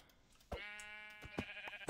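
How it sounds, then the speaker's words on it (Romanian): Sheep bleating in a video game, one long wavering bleat alone and close, followed by a couple of short sharp knocks. "Pleacă oaie."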